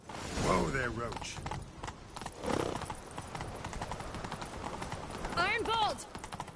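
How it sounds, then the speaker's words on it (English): Horse hooves clip-clopping in the video game The Witcher III, a steady rhythmic beat with whinnies and neighs rising above, heard under game dialogue and character voices. "Grab a horse, we'll chase him down."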